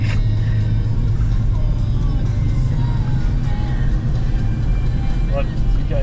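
Rescue vehicles rumble past on a snowy Blue Mountain road during a blizzard, a loud, continuous low engine drone close by, with people talking over it.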